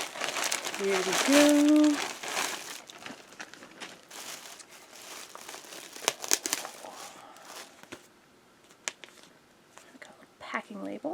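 Crinkling, crackling plastic packaging being torn open and handled up close, with brief spoken words near the start and steady rustling throughout.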